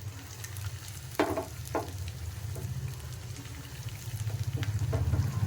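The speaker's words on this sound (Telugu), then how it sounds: "ఈ ఆయిల్లో కొద్దిగా రోస్ట్ అవ్వాలండి ఇది మిరియాలు పచ్చిదనం పోవాలి" Black pepper, cumin, garlic, dried red chilli and coriander roasting in hot oil for a pepper rasam, a steady close sizzle with a few sharp crackles and pops as the spices fry, growing slightly louder toward the end.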